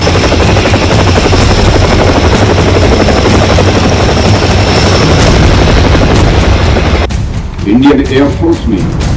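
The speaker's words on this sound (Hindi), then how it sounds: "प्रथम इंडिजिनस लाइट कॉम्बैट हेलीकॉप्टर का इंडक्शन हो रहा है" An Indian indigenous light combat helicopter flies at an Air Force Day induction, its rotors producing a loud, continuous, dense thudding roar that dominates for several seconds before dropping away into quieter rumbles.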